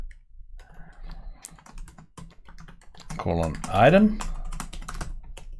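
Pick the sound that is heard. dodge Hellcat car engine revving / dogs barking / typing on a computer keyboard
typing on a computer keyboard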